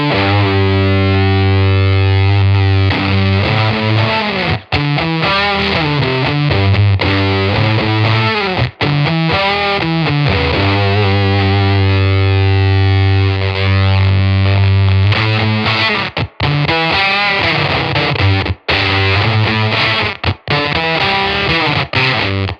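Electric guitar through a Fairfield Circuitry 20% More slew limiting distortion pedal with the gain cranked gives a loud, sustained, buzzy fuzz tone with shifting chords and a few abrupt gated cutouts.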